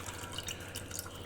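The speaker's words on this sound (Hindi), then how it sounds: "हम पानी को छन्ने के लिए इसमें छोड़ देते हैं तब तक के लिए" Rinsed poha drains in a kitchen strainer, with water trickling and dripping steadily and softly at close range for the whole stretch.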